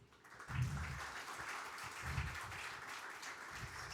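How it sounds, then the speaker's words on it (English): Applause from an audience in a seminar hall, moderately faint and fairly steady, with a few heavier low thumps mixed into the clapping. "let's give a huge round of applause for yourself"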